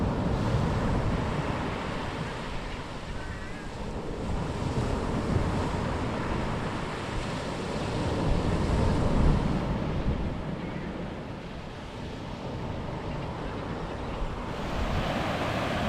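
Surf breaks continuously on a Lost Coast beach, a loud close wash of waves mixed with gusting wind buffeting the microphone, with no speech.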